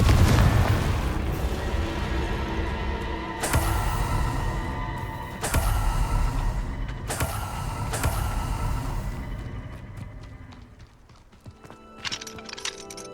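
Confringo blasting spells in the video game Hogwarts Legacy: a loud, deep explosive rumble with several sharp cracking blasts spaced a second or two apart, fading to quieter crackles at the end.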